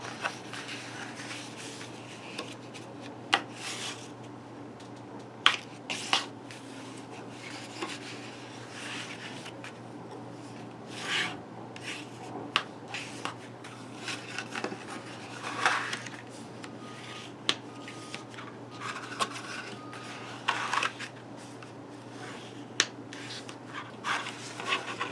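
Burnishing score lines on a paper box, with faint repeated rubbing and scraping strokes and occasional small taps against a low steady background hum.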